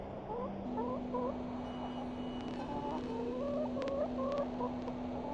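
A hen clucks in the video game The Excavation of Hob's Barrow. Short, chirpy clucks come in loose bursts over a steady ambient hum, with no speech.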